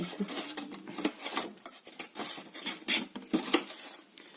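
Paper being cut at a bevel for a handmade mini album, a close series of short scraping, snipping and rubbing sounds in an irregular rhythm, with no talking.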